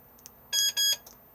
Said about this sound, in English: two beeps disarmed.